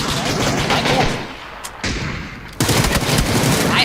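Gunfire in the video game PUBG, loud close bursts of rapid automatic shots broken by a short pause, then firing resumes continuously.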